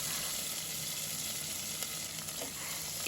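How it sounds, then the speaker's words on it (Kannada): Curry leaves, green chilies and onion sautéing in hot oil with mustard and cumin seeds, a steady close sizzle with faint crackles throughout. "ಈಗ ಕರಿಬೇವು ಮೆಣಸಿನ್ಕಾಯಿ ಹಾಗೂ ಈರುಳ್ಳಿ ಹಾಕ್ಕೊಂಡು ಬಾಡಿಸ್ಕೊಳ್ಳೋಣ"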